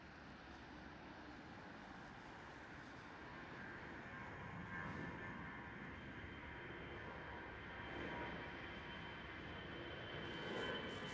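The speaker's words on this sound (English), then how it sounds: "While this Airbus takes off." An Airbus airliner takes off at Amsterdam Schiphol Airport, its engines giving a broad, steady roar heard from a distance that swells slightly over time.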